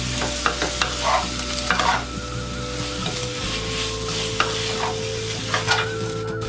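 Pickled mustard greens, tofu and shiitake mushrooms stir-fried in a pan, a steady sizzle with repeated scraping strokes of a spatula against the pan, close and clear with no voices.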